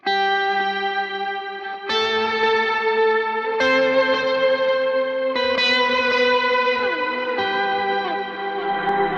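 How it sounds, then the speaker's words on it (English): Electric guitar through an HX Stomp plays a slow single-note lead line with heavy chorus, echo and slight distortion, notes sustaining and bending, loud and close. "Beautiful lead line, beautiful sound when you get a nice octave up and down."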